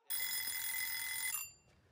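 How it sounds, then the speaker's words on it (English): A game timer buzzer in a living-room board game goes off, one loud, sustained electronic ring lasting just over a second, then cutting off into near silence. "That was the buzzer."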